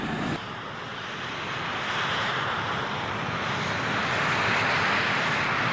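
A Northrop F-5 jet aircraft roars with a broad, rushing engine noise that swells gradually louder, heard alone with no talking.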